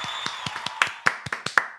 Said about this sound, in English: The trailing applause